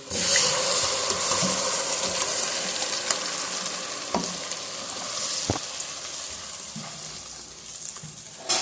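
Marinated chicken hits browned onions in a karahi, giving a loud, dense, continuous sizzle with occasional clinks and stirring knocks, close up and with no talk.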